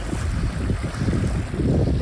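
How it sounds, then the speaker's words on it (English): Briskly running river water at a ford, a steady broadband rush with low rumbling churn, close and continuous, with some wind buffeting the microphone. "There's a lot of water, it's running pretty briskly"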